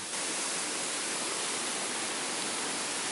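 A waterfall in Bali pours with a steady, dense rushing roar heard up close, with no other sounds breaking through.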